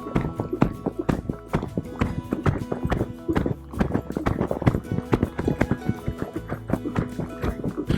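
Gaited horse cantering on a busy farm, hooves clip-clopping in a quick, steady three-beat rhythm close by, with occasional faint voice in the background.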